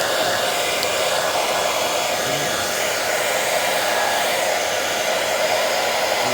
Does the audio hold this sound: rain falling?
no